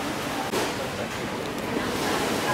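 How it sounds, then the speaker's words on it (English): Ocean waves wash continuously beside a seaside restaurant in Krabi, Thailand, a loud, rushing broadband surf with a windy, noisy texture and no clear talk. "Right beside the ocean though."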